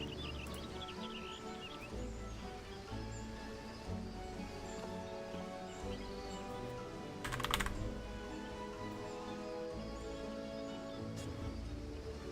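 Fingers type on a computer keyboard in rapid, uneven bursts of soft clicks, with a short louder clatter midway, over faint background sound.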